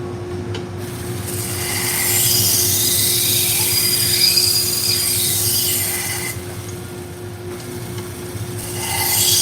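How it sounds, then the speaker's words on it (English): Steak knives being sharpened on a 400 grit stone, a steady rhythmic grinding rasp close by that swells and fades with each pass, over a constant low hum. "So I'm going to sharpen these at 22 degrees and I'm going to stop at"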